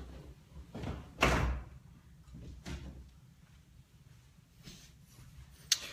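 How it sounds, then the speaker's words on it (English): A door is pushed shut indoors, giving a few dull thuds and knocks spread over several seconds, with a sharper click at the end. The room is otherwise quiet and no one speaks. "I'm going to shut this door."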